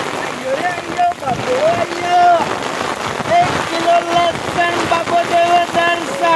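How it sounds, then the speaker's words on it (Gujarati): Steady rain patters over a surface with wind noise, while voices talk and call out over it throughout. "મસ્ત વરસાદ ચાલુ"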